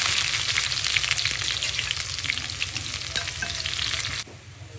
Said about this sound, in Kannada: ಒಗ್ಗರಣೆ ಮಾಡೋಣ